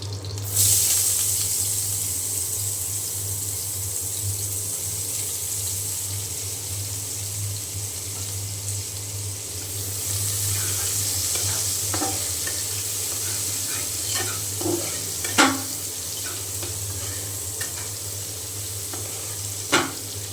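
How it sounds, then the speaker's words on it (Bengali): Onion frying in oil for a fish and bottle gourd curry, a constant near sizzle with occasional stirring scrapes and a few sharp clinks of a spoon toward the end. "আর এই তেলের মধ্যে আমি পেঁয়াজ দিয়ে দেবো"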